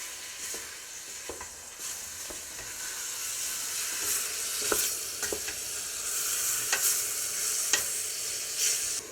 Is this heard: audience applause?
no